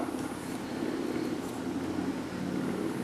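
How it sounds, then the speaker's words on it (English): Steady low rumble of road traffic drifting in through an open door on a calm summer day, a continuous distant wash of passing vehicles with no talk. "You can probably hear traffic"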